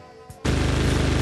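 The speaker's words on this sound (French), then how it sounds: "Envoie encore une rafale, envoie une salve." A machine gun fires one sudden, loud, sustained burst of rapid shots as a radio drama sound effect, following a short quiet lead-in.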